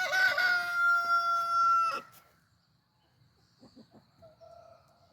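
A rooster gives one loud, close crow lasting about two seconds, followed by near silence and a few faint clucks and rustles.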